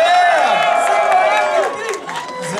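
Concert audience at Gala Hala applauding and cheering for a guest, with loud sustained crowd noise and shouts that fade slightly toward the end.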